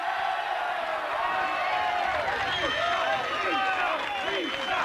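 Roadside crowd at a 1996 Tour de France mountain stage finishing at Hautacam, cheering, whooping and clapping for a passing cyclist; a dense, loud, continuous roar with shouted calls and rising cries running throughout.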